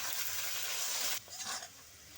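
Potatoes frying in oil with salt and turmeric, a steady bright sizzle that briefly drops and shifts as they are stirred, then crackles on, close and fairly quiet.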